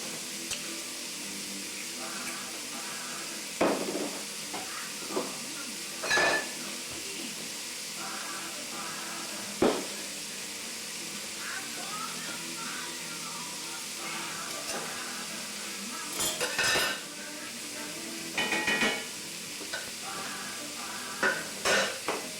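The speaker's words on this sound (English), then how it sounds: "I'll drop my Italian sausage in there. Poach it right in there." Italian sausage poaches in a pot of simmering tomato sauce, with a soft steady bubbling hiss broken by intermittent scraping and clanking stirs of a utensil against the pot.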